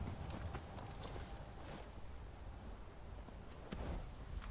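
A horse gallops in Skyrim, its hooves beating out a quick, rhythmic clip-clop, fairly quiet and steady throughout.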